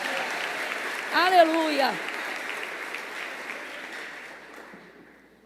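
A church congregation claps through a worship service. A voice calls out over the start of the applause, and the clapping then tapers off gradually.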